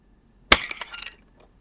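An AI-generated glass break: a single sharp, bright shatter hits all at once, then a few small tinkling fragments clatter and fade out over about half a second.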